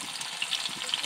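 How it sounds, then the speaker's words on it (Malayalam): Jackfruit slices deep frying in oil, an even, close bubbling sizzle with fine crackles throughout a brief moment, no voices. "ഇത് നമുക്ക് ആദ്യം സാധാരണ വറുക്കുന്നത് പോലെ വറുത്തെടുക്കാം"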